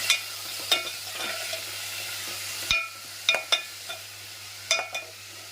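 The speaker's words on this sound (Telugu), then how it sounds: "అలాగే తరిగి పెట్టుకున్న ఆనియన్స్, టమాటోస్ అన్నీ ఒకటొకటి వేసేద్దాం. ఇవి బాగా వేగనిద్దాము." Chopped onions and tomatoes sizzle in a hot pan under a steady hiss, with several sharp scrapes and knocks of a spoon as they are stirred, close and fairly loud with no talking.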